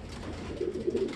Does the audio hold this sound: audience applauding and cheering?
no